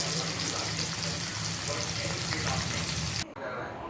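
Fish fries in a pan over medium heat with a steady, close sizzle and crackle, and a household mixed with people talking runs underneath. Near the end the sizzle cuts out sharply and a quieter sound takes over.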